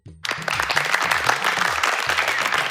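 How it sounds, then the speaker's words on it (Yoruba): Audience applause at a children's game show, a steady wash of clapping that starts abruptly and stays loud and dense throughout, with low tonal hum or music running underneath and no speech. "ó yẹ pàtẹ́wọ́ fúnra yín"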